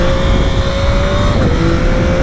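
A car speeds along the road with a steady, loud engine drone and a rising tonal whine, heard continuously without any talking.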